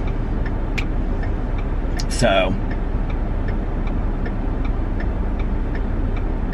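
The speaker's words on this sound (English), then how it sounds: "that car had a weird turn signal on it" Steady, evenly spaced ticks from a car's turn signal repeat over the low hum of a running engine, with a short burst of voice partway through.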